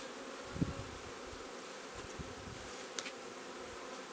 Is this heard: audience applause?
no